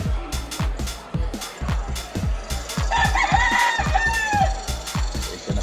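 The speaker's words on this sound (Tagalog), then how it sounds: "Tirawak ng manok mga idol." Roosters crow repeatedly amid a yard full of chickens, the calls standing out clearly over a steady, dense background of clucking and rhythmic thumping with no speech.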